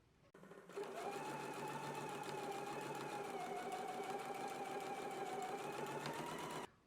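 Sewing machine running a steady top stitch along an apron hem, a continuous even motor whir with rapid needle clatter that starts abruptly and stops just as suddenly near the end.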